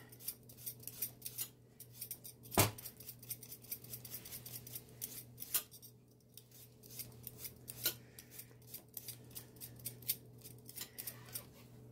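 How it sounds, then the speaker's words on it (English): Potatoes being peeled by hand in a home kitchen, giving quiet, irregular scraping strokes with occasional sharper clicks, close and faint over a steady low background hum. "gotta peel my potatoes"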